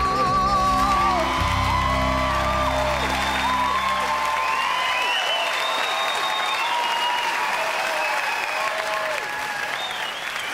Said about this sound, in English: let's have a big round of applause, please, for Claire Taylor